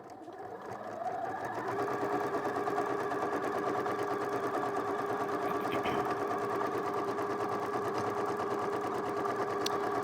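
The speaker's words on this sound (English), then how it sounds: "I'm going to complete the sewing here while we're together" A domestic sewing machine stitches a seam in fabric with a fast, even mechanical chatter that starts after a second and runs steadily and fairly quietly to the end, alone without talk.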